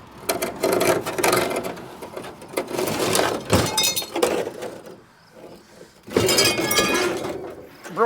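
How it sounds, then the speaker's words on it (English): Shards of broken glass clatter, clink and scrape as debris is moved around inside a rotten 1934 Ford Fordor; repeated loud rustling bursts with a quieter pause midway. "Broken glass."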